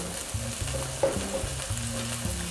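Veal saltimbocca sauce bubbles and sizzles in a hot pan with chopped sage. A continuous frying hiss runs under low rhythmic stirring scrapes and a few sharp clinks of utensil against the pan.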